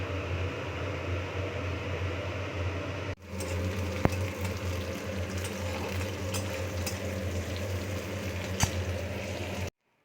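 Onion and garlic frying in oil in a wok, a steady dense sizzle with a low hum underneath and a couple of faint clicks, continuing evenly before cutting off abruptly.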